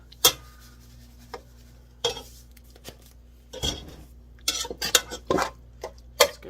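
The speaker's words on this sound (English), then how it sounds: "I brought it over here to show y'all and to break it up a little bit more" A utensil scrapes and clacks against a pan while browning ground beef is broken up, giving sparse, irregular knocks and scrapes close by that grow busier toward the end.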